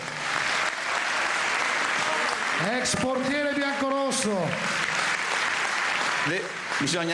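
Warm audience applause at a centenary gala for the Mantova football club, continuous and fairly loud while someone speaks over it through the middle.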